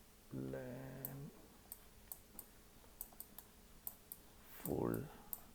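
Keystrokes tapped on a computer keyboard, a sparse irregular run of light clicks at moderate distance, with brief bursts of voice-like sound before and near the end.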